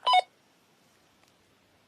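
Phone beeping as coordinates arrive, a short double electronic tone heard up close at the start, followed by near silence.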